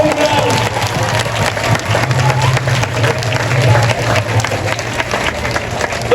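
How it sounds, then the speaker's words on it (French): A congregation at a funeral mass breaks into sustained, dense applause, a loud wash of many hands clapping together with a crowd murmur that carries on without pause. "Faut applaudir plus fort pour"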